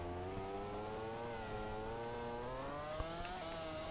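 A Honda Repsol MotoGP bike in MotoGP 14 on PS4 screams at high revs, a steady buzzing engine note that climbs slightly in pitch with a brief shift blip near the end.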